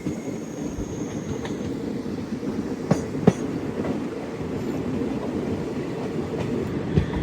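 A passenger train runs on rails in Kashmir near Qazigund, a steady loud rumble from inside the carriage with a few sharp clicks from the wheels over rail joints and no talk.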